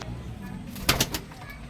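A pigeon coos in a couple of soft throaty pulses close by, with a brief flutter, over quiet background hum.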